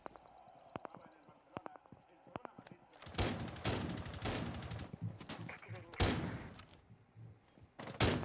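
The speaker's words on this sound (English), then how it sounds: "you can see the gunshots coming through the floor" Gunfire in a Rainbow Six Siege match comes up through the floor, sharp isolated shots at first, then dense bursts of rapid fire, loud and close, with a commentator talking over it.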